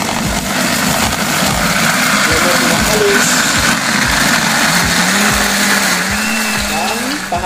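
A blender whirs loudly and steadily through chili and garlic, its motor pitch wavering as the contents churn, with a voice speaking faintly underneath.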